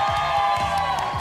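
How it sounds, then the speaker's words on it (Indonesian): An audience at a televised singing competition applauds and cheers, a loud crowd wash of clapping with scattered shouts and whoops, while a voice speaks briefly over the noise. "Beri tepukan untuk Mak Daus."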